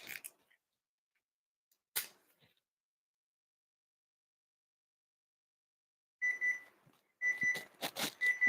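A kitchen timer beeps in short bursts, faint at first and then in quick repeated clusters, heard up close in a quiet kitchen while corn is being cooked.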